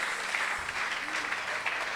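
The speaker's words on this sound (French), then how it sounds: "Est-ce qu'on peut acclamer le Seigneur?" A church congregation at a missionary conference camp breaks into sustained applause and cheering, a dense wash of many hands clapping with voices mixed in throughout.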